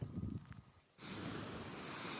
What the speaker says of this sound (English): The sea was particularly choppy this day, so it was quite cool to watch.